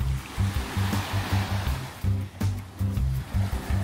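Waves wash onto a beach in Spain with clear water in a rhythmic, repeating surge, heard close with low throbbing wind or handling noise underneath.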